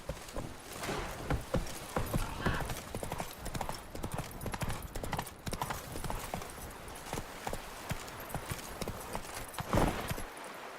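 Horse hooves clip-clop steadily at a walk-to-trot pace in The Witcher 3, a close, continuous rhythmic clatter with a brief whinny-like swell near the end.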